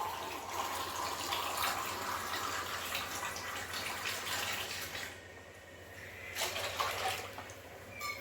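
Water poured steadily onto rice in a pressure cooker for pongal, a continuous splashing gush lasting several seconds, briefly easing before a final splashy surge, close and without talk.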